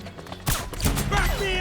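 Sudden burst of gunfire in Metal Gear Solid 4, a sharp loud crack followed by further rapid shots, mixed with shouted voices and other battle noise.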